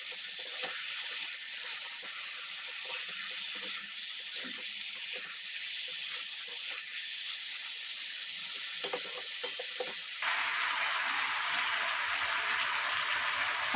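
Potato bhujia, Bihari style, fries over a medium gas flame while being stirred now and then, making a loud steady hiss with scattered scrapes. Partway through, the sizzle turns brighter and shifts in tone. No voices.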